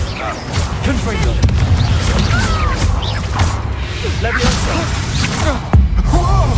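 Blasting-spell explosions in the video game Hogwarts Legacy, a dense run of crashing booms and whooshes filling the whole stretch with loud, continuous combat noise and voices mixed in.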